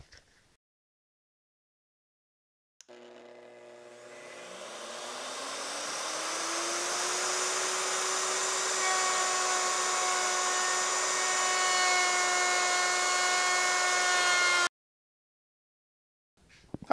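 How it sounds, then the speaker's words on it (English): A woodworking router cuts a dovetail groove with a dovetail bit for a workbench build, spinning up to a loud, steady high whine that holds for about twelve seconds before cutting off abruptly. It is close and has no talk over it. "We did the preliminary cut with a 1/4 inch upcut bit. We did the second cut with the dovetail bit."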